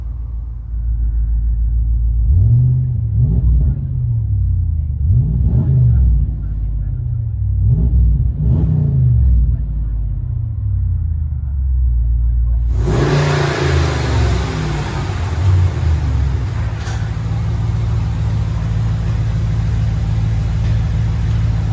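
From inside the cab of a Ram Power Wagon with a 6.4L Hemi V8, the engine blips through four quick throttle rises over a low idle, then a louder sustained rev with broad roar and rumble runs to the end.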